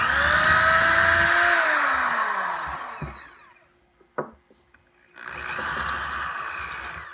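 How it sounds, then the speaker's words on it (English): A loud, steady corded power drill whine with a 5/32 bit runs for about three seconds, winds down to near silence with a few clicks and knocks, then a second drilling burst follows. "I'm using this corded drill here. It's just ridiculous for the speed here."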